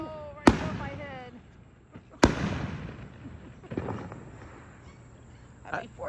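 Fireworks bursting overhead above a street during a 4th of July night, with two sharp loud bangs followed by crackling and a few smaller distant pops, while a voice briefly speaks in the background.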